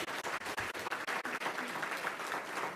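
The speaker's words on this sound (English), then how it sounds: "let's give them a big round of applause" Audience at a World Trade Week international trade kickoff event in New York City applauding, a dense, steady burst of clapping from a standing crowd at moderate level, with no voices on top.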